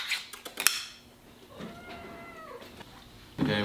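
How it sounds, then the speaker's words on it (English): A pet cat meows at morning feeding time, one drawn-out meow in the middle following some clinking of dishes, close and fairly quiet, with kitchen clatter before and after. "Then I come in and I feed my little cat."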